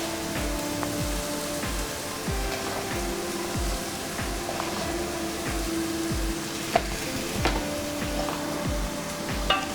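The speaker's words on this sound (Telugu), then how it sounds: "కారం కూడా వేసి ఒకసారి కలిపిస్తున్నాం." Masala for a sandhuva deep-sea pomfret fish curry frying in a pan while chili powder is stirred in, a continuous sizzle under steady rhythmic scraping of a spoon, close and without talk.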